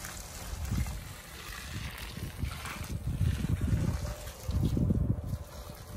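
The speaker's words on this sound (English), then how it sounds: "So I'm gonna go ahead, pour this water in here." Hot water is poured into a container of soil for sterilizing, producing a close, steady gurgling slosh with uneven low surges that swell and ease over several seconds.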